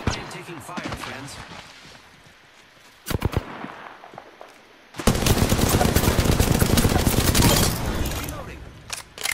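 Automatic weapon fire in Apex Legends, scattered shots at first, then a dense, loud, sustained burst of rapid gunfire filling the second half, with players talking over parts of it.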